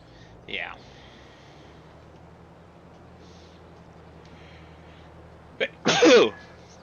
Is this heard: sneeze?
yes